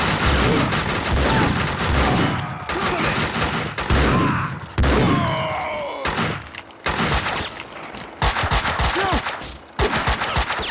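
Heavy, almost continuous gunfire from Max Payne 2 firefights, with loud repeated bursts and shots throughout, briefly broken by pauses and a few shouted voices.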